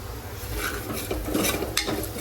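Chillies, ginger and garlic sauté in a pan for dal khichadi, giving a steady close sizzle broken by scraping stirs and light metal taps against the pan.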